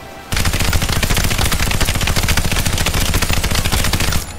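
Sustained automatic gunfire in CryENGINE 3 aimed at trees, loud and close, with rapid, evenly spaced shots in one continuous burst lasting about four seconds.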